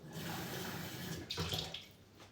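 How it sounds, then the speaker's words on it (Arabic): Water being poured into an aluminium-lined baking dish for stuffed chicken with minced meat and cheese, a short splashing pour heard close up with no talk. "هنايا نفرغ شويه ماء"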